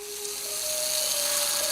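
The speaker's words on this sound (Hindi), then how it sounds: "2 तरफ चलने वाली ड्रिल, इसे उल्टी तरफ चलाओ तो नंबर्स कम होते जाएंगे" A reversible power drill runs backward to turn back a car speedometer, giving a thin, steady high whine that rises slightly in pitch partway through, fairly faint and short.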